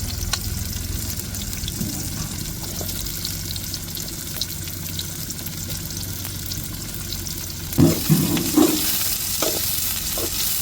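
Onions and shallots frying in hot oil for a dried tuna relish, a steady, close sizzle with a few louder stirring clatters near the end.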